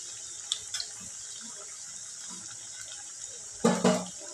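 Sweet potato slices fry in hot oil for fasting wafers, giving a steady, soft hiss of bubbling. A few faint pops come early, and a louder sputtering burst follows near the end.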